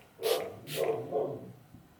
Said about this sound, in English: I know my dog's just barked